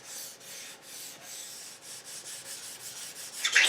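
A sharpening stone rubbed by hand along the edges of a rusty planer knife, a steady rhythmic back-and-forth scraping of even strokes, close and moderately loud, with a brighter scrape at the end.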